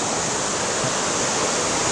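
The Helton Creek Falls waterfall roars with a dense, steady broadband rush, loud and continuous throughout with no voices.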